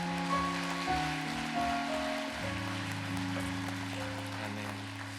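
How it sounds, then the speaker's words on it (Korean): A church congregation applauds during a worship concert, the dense, rain-like clapping spread through the hall beneath sustained keyboard chords, with no voices. "하나님께 영광의 박수를 올리겠습니다."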